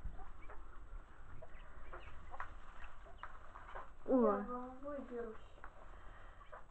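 Faint quail clucking and soft rustling as the birds bathe, with one louder warbling call midway; a voice briefly exclaims nearby.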